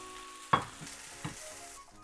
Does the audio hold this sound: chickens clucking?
no